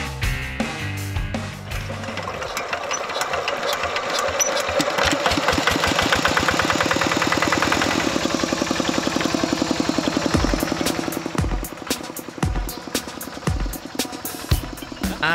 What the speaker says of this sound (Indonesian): Cara mengangkutnya unik loh, pakai traktor mini yang bagian belakangnya ditambah gerobak.